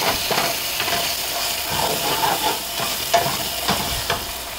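Dry chili powder is stirred into onions frying in a pan for a mutton rezala, a steady crackling sizzle with repeated scrapes and clinks of a spoon, close and continuous.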